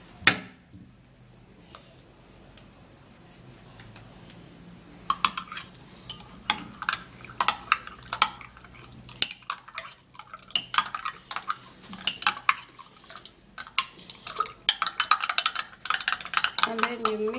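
A spoon stirring a red onion and honey mixture in a bowl: quiet at first, then a run of close, irregular clinks and scrapes that grow busier and louder toward the end.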